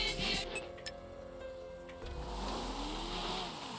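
A car spawned in the FiveM GTA V video game: a few clicks, then a game engine comes in halfway through with a rising rev and a steady drone to the end.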